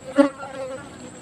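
A fly buzzing near a frog held in a bottle: one short, faint buzz swells and fades within about a second against a quiet background.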